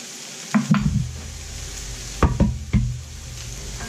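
Minced seasoning hits a hot pan of cooking vegetables with sharp sizzling bursts as a utensil stirs and scrapes it in, two clusters of scraping over a soft steady frying hiss.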